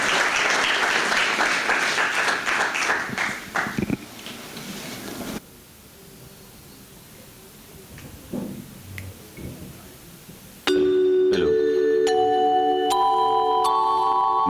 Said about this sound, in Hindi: एक बार फिर बहुत ज़ोरदार शानदार तालियाँ